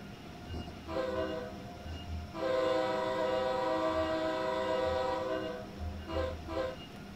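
A train on the New York to Trenton stretch of the Northeast Corridor in the Train Sim World 3 simulation runs with a loud, sustained horn blast over the rumble of the rolling consist, followed by two shorter horn toots.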